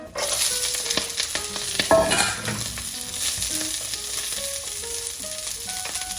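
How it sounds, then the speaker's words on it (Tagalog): Brussels sprouts stir-fry in hot vegetable oil, a steady loud sizzle and crackle running throughout with scraping stirs and a brief louder burst near two seconds, no voices. "We'll now stir fry our Brussels sprout."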